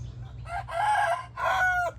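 A chicken crows in a home garden, a loud, close, drawn-out cock-a-doodle-doo in several rising phrases over a low steady background hum.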